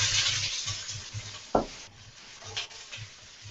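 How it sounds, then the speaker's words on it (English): Garlic and julienned ginger sizzle in a pan while being stirred, giving a steady frying hiss broken by soft rhythmic scrapes and one sharper knock of the utensil against the pan. "some garlic, some julienned ginger. We'll leave a little bit just for the topping later on. And we're just going to give that a stir."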